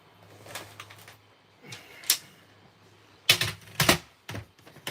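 Cardstock is cut for a handmade card with a small trimmer, giving a few quiet scraping slices and sharp clicks. The strokes come in irregular bursts with short pauses between them, close by.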